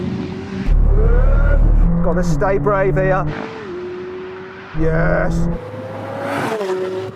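A car engine pulls hard on boost while driving, its note climbing and dropping through loud revving bursts. Someone talks over it between pulls.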